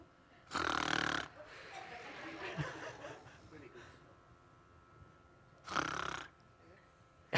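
A person imitates snoring, giving two loud, rasping snore sounds separated by a few seconds, with softer breathing and murmuring between them in a quiet room.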